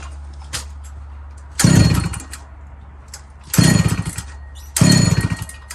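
Chainsaw with an aftermarket muffler being pull-started, three rough bursts of sputtering engine noise close by, separated by quieter stretches of low hum.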